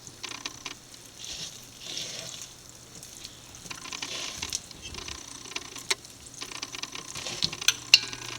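Small balls of wheat-flour bonda batter frying in oil over a low flame, a soft steady sizzle with stirring clinks and scrapes, close and fairly quiet, with no talking.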